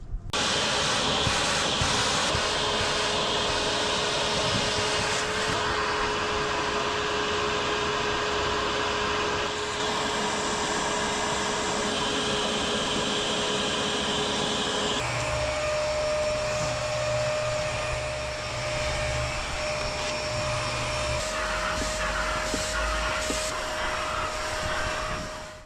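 Vacuum cleaner sucking debris out of the carpet of a dirty Mazda CX-5, a loud continuous motor whine that shifts pitch as the nozzle is worked against the fibers, close and unbroken throughout with no talk.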